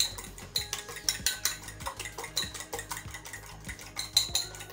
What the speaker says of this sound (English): we are just going to whisk the egg together